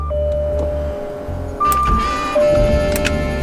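A Jaguar XJ8 Vanden Plas with a 4.0 liter engine, which shows a check engine light, cranks with whirring electric noises and then catches, settling into a loud, steady close idle.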